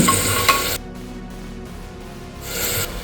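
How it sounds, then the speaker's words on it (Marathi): Chopped onion, tomato, ginger and garlic sauté in a pan for a Maharashtrian horse gram dish, with bursts of close scraping and stirring at the start and end and a quieter hiss between. "कांदा टोमॅटो चांगलं दोन मिनिट परतवून घेऊ"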